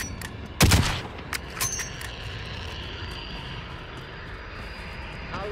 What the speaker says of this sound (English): Enemy UAV overhead.